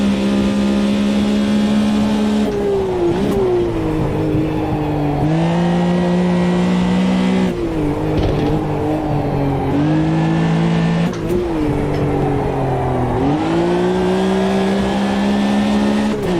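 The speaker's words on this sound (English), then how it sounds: "There's a faster class car behind." Group C prototype race cars in Automobilista 2 at Silverstone, engines droning loud and close with repeated downshifts and revving climbs, no talking.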